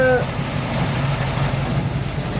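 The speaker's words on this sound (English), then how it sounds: "Not idling perfect, but it's idling." A small block Chevy engine idles roughly and unevenly, a steady low rumble with a slightly irregular pulse, up close; a brief tonal sound at the very start.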